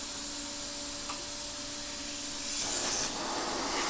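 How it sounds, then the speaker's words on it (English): A CNC router's mist nozzle sprays water in a fine, steady hiss. It is faint and near, with a faint tonal hum in the background and a slightly stronger burst of spray toward the end. "I don't know if you can hear it, but it's actually spraying."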